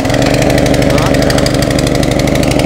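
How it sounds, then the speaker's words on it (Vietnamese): A four-stroke gasoline engine is pull-started and then runs at a loud, steady idle nearby, its rapid even chugging filling the whole stretch. "Bây giờ mình sẽ giật nổ các bạn xem nhá."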